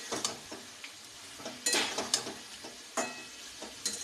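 Turmeric powder frying in hot oil for a masala paneer chicken curry: a soft sizzle with intermittent stirring scrapes and light clinks of a utensil against the pan, moderately close, with no voices.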